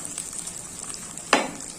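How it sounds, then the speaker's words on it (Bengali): Chopped tomato frying with browned onion in a pan, a soft steady sizzle throughout with one sharp burst of spattering near the end; no voices. "টমেটোটা ভেজে নিচ্ছি পেঁয়াজের সঙ্গে।"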